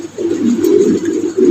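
A Tiger Mondi pigeon coos in one continuous low, throaty warble, loud and close, with no talking.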